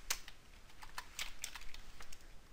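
Fingers tap out code on a computer keyboard in a quick, irregular burst of crisp clicks, close and quiet, with no voices.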